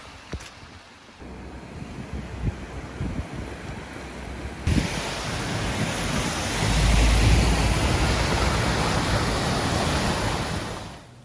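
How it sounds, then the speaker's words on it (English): Sea waves breaking on the coast near Swanage after a storm, a broad rushing wash of surf mixed with gusty wind buffeting the microphone, swelling louder midway and staying close and continuous. "This finally is the sea"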